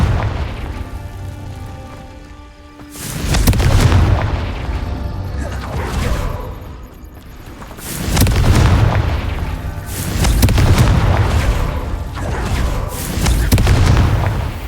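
Confringo fire-blast spells in the video game Hogwarts Legacy explode in a series of loud booming bursts, roughly four heavy blasts a few seconds apart over rumbling game sound.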